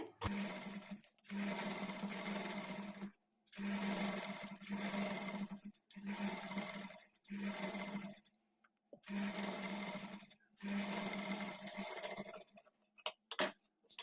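A sewing machine with a normal presser foot stitches thread piping onto a sleeve edge, running in about six steady stitching runs separated by short pauses, close and clear with no talk over it.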